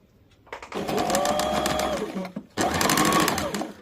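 A sewing machine stitches a chap seam along kurti fabric in two loud bursts of rapid whirring, separated by a short pause, close up with no talking.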